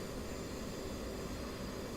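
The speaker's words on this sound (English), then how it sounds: "Yeah, it looks like somebody took off there." Aircraft departing from a runway in the DCS flight simulator, a steady broadband engine roar holding at an even level throughout without clear rise or fade.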